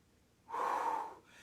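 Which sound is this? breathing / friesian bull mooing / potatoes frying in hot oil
breathing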